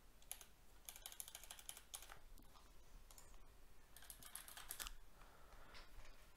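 Faint clicking of a computer keyboard as someone types in the Notion app, with irregular clusters of keystrokes and short pauses against quiet room noise.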